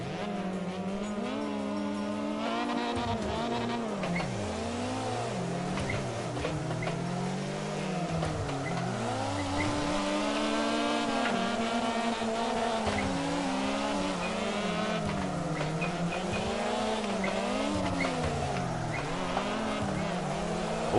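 A car drifts in the CarX Drift racing game. The engine revs in rising and falling sweeps while the tires squeal almost nonstop, loud and close, for the whole stretch.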